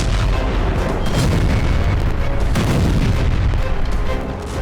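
A simulated 750-kiloton nuclear warhead blast over London, heard as a dense, continuous low rumbling roar with booming surges, loud and sustained throughout before easing slightly at the end.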